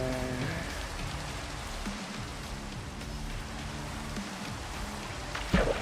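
Steady rain falling in the video game Minecraft, a soft continuous patter with a low tonal game music bed underneath and a brief louder click near the end.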